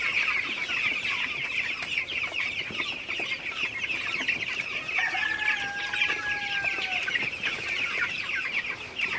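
A flock of 18-day-old broiler chickens in a farm shed keeps up a dense, continuous chorus of peeps and clucks, with one longer rising call standing out near the middle.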